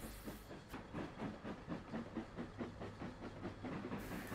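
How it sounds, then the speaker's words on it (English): Simulated train in the Trainz railway simulator game, a steady rolling rumble with regular rhythmic clicking of wheels over rail joints and a hissing layer, moderately quiet and continuous throughout. "I think we can hear a train there."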